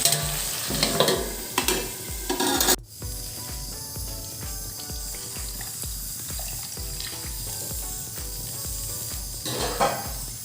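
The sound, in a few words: chicken meat frying and being stirred in pan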